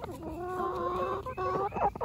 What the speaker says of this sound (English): We try to free range our chickens mostly.